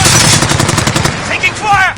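Rapid automatic gunfire in a battle-royale shooter game, loud close bursts of rhythmic shots followed by brief electronic tones, with no talking.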